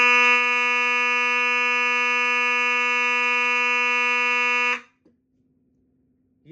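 A fire alarm test of a 2903 light plate with a 9838 horn: a loud, steady harmonic horn tone sounds continuously for nearly five seconds, then cuts off abruptly, leaving a faint low hum.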